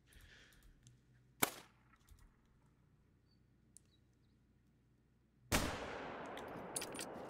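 A single sharp rifle crack rings out while hunting an animal in theHunter: Call of the Wild, set against quiet outdoor ambience; a few seconds later a louder, noisy burst of sound follows.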